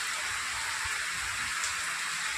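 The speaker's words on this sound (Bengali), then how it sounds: "এইভাবে বৃষ্টি পড়লে কেমনটা লাগে।" Heavy rain falls outside in a steady, dense hiss that never lets up, with soft low thuds underneath and no voices.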